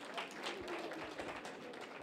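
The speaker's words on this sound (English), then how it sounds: "clap your hands" Audience clapping at a Democratic city committee breakfast, a dense, fairly quiet spatter of many hands heard from a distance, continuous with no clear pauses.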